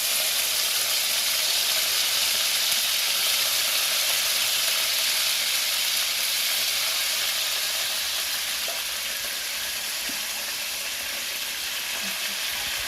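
Curry leaves, coriander and a bay leaf crackle and sizzle steadily in hot oil for chicken curry, a dense, close, continuous frying hiss with no voices.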